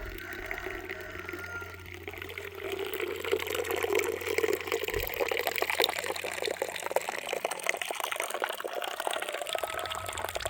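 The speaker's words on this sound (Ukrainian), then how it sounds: "Струмочки соку всюди." Apple juice flowing from a 5-ton fruit press, a continuous trickling and streaming of liquid, close and steady, with a faint low hum beneath.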